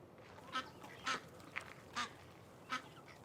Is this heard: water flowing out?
no